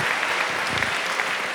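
Audience applause in a hall during an on-stage conversation event, steady and dense throughout, with no voices over it.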